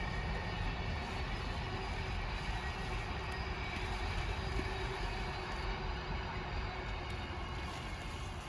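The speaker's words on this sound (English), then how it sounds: "If you can hear me over the train." A train rumbles past near a smallholding, a loud continuous broadband roar with a steady hum that holds for several seconds without voices.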